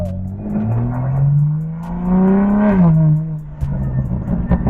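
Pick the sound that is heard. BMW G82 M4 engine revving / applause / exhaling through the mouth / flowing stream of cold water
BMW G82 M4 engine revving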